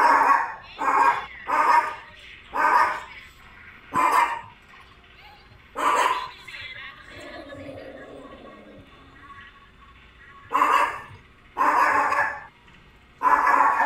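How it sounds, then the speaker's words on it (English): A dog barks excitedly in repeated loud bursts, with a few yips, heard at an amusement park under game music, with a quieter stretch between barks. "Somebody's dog is going nuts."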